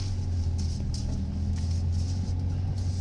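A Renault Clio 1 driving along, a steady low engine and road rumble heard from inside the car, continuous and fairly loud with no talk.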